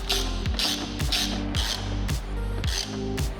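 A hand ratchet tightening a bolt back onto a Lamborghini, clicking in a steady repeated rhythm of about seven strokes, close and loud with no talking.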